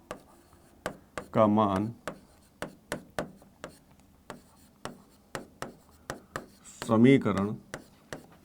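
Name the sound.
chalk or pen writing on a board during a maths lesson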